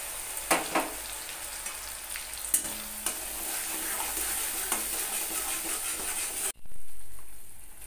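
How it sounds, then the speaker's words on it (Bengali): Mustard, poppy seed and green chili paste sizzles steadily in a hot wok, a dense, even frying hiss broken by a few sharp clinks and taps before it cuts off abruptly near the end. "সর্ষে, পোস্ত, কাঁচা লঙ্কার পেস্ট কড়াইয়ের মধ্যে দিয়ে দিলাম।"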